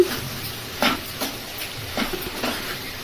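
Curry with salt and chili powder is stirred in a pot over a low flame, with a faint sizzle under a few scraping spoon strokes on the pan.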